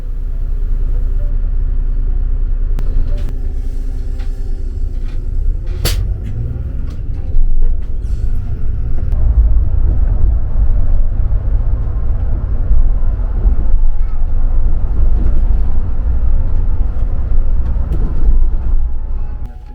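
An HRTC Volvo luxury bus travelling on the road between Manali and Shimla, heard as a continuous low engine rumble and road noise with a few clunks and rattles over it.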